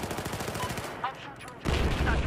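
Battlefield 4 online match with bursts of rapid automatic gunfire, dense repeated shots before a short lull and a louder renewed volley, close and harsh, with no talk over it.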